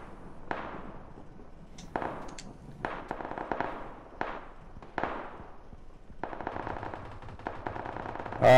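Automatic gunfire in the battle-royale video game PUBG: repeated short bursts of rapid shots spread across the stretch, some crisp and some more distant, with no talking.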